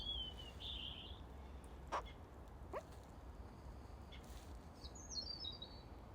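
A pet bird chirping indoors, with a few short, thin chirps spread across the span, close but faint against a quiet room.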